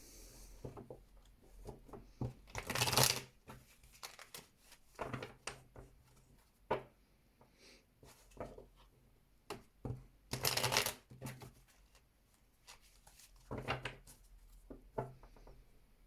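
Tarot cards from a Kim Kranz What Unknown deck being shuffled, with several bursts of riffling and cascading cards separated by softer handling and light taps, close up with no talk.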